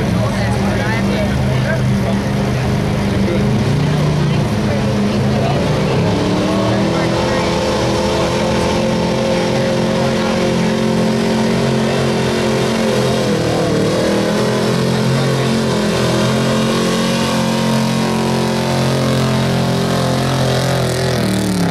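A 1979 Ford F-350 truck engine roars loud and continuous at a Blue Cheese Days truck pull in Clayton, Wisconsin, with pitch sweeping up and down as it strains, under crowd noise and an announcer's voice.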